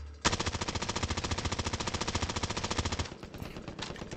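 An SMG in Call of Duty Warzone fires one controlled burst of rapid, evenly spaced shots for nearly three seconds, loud and close, then stops abruptly and fades into quieter in-game noise.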